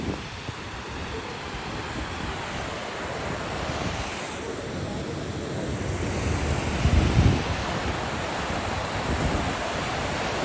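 Water of the Ganges river on the way to Gangotri rushes in a steady, loud roar mixed with gusting wind buffeting the microphone, a constant broad wash with a swell near the end.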